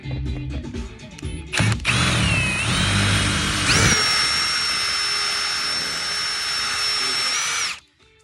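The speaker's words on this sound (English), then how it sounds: "So basically, I have to drill the rivets out." A power drill bores out metal rivets, with a sustained loud high-pitched whine that steps up in pitch as the bit bites, running steadily for several seconds close up before cutting off.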